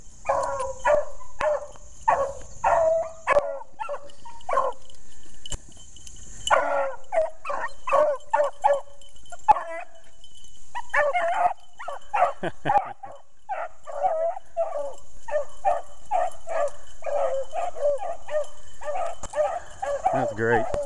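Beagle hounds bay and yip in rapid excited bursts while running, loud and close, with a few whimpers between the calls.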